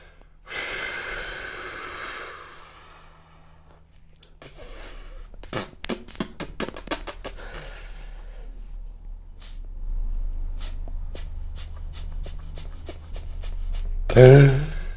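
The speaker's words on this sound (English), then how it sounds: "the puffing in and out is because I'm half pinching so you can hear it" Breathing puffs through a half-pinched nose during Frenzel equalisation: a long exhale, then a series of short, sharp nasal puffs at a quick rhythm, close and fairly quiet, with no talking.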